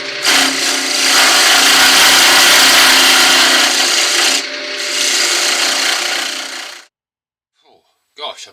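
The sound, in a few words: wood shaking while being turned into a Christmas ornament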